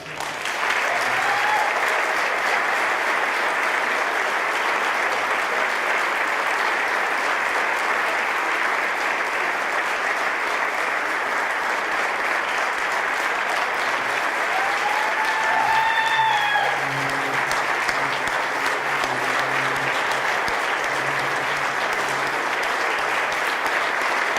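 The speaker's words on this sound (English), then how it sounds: "Please a big round of applause." An audience at a volunteer-of-the-year awards evening applauds steadily for over twenty seconds, a dense, even wash of clapping with a few faint voices and cheers mixed in.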